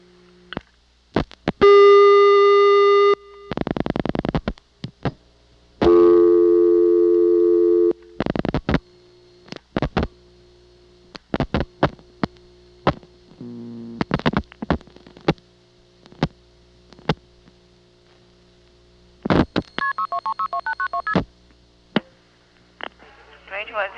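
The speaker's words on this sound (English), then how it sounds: "Let me demonstrate what happens when I dial 411." A 1982 Siemens motor switch telephone exchange in Ocala, Florida, handling a call to 411: bursts of dial clicks, steady tones and ringback separated by relay clicks and pauses, heard over the line.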